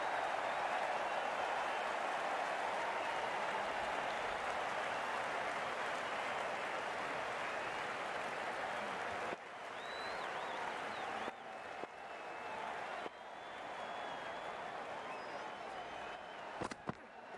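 A large outdoor crowd applauds at a cricket match as players leave the field in heavy rain, a broad, steady wash of clapping that runs on for many seconds and then thins into scattered bursts.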